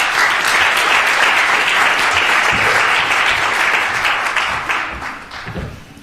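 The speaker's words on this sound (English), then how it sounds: "Would you please give a massive round of applause for Izzy Duff, representing carers and service users." An audience at a continence promotion event gives a round of applause, full and steady for several seconds before tapering off toward the end.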